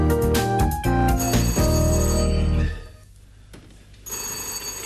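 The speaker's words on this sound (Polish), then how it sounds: "Telefon!" An old-fashioned telephone bell rings loudly in rapid bursts, then stops, leaving quiet before a faint hum returns.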